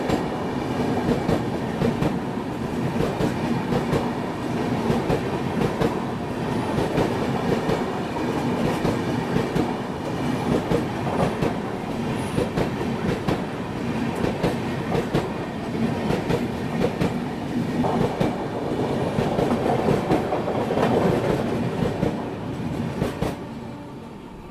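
Humsafar Express train rolls along the tracks, a steady loud rumble with rhythmic clickety-clack of wheels over rail joints, heard from inside the moving coach throughout.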